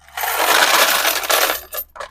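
A coin counter machine running coins, giving a dense, loud metallic clattering rush for about two seconds that stops, followed by a couple of brief rattles.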